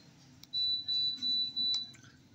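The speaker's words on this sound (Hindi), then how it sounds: "दो दबा बीप की आवाज़ आएगी तो पंखा ऑटोमेटिक चालू हो जाएगा" Four short high-pitched electronic beeps in a steady row come from a ceiling fan receiver as a remote is paired with it, clear over a low background hum.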